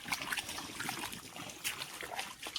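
Water trickles and splashes softly in a flooded rice paddy in the Konkan countryside during puddling for transplanting, a faint, uneven patter of small drips and sloshes with no voices.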